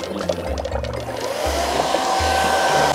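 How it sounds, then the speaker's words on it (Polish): An electric hair dryer blows steadily and loudly from nearby, used as wind over a model of smog in mountains, a continuous whooshing roar with slight shifts as it is pointed from different sides. "Podłączamy suszarkę do prądu i dmuchamy z każdej strony."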